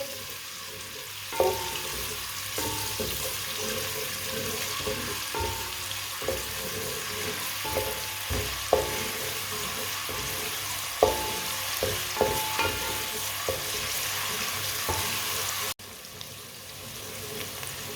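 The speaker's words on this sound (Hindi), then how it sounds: "प्याज को हल्का सा ब्राउन कर लेंगे" Finely chopped onions frying until lightly browned in a pan, a constant sizzle broken by irregular close clicks and scrapes of a spoon stirring against the metal for the whole stretch; no voices.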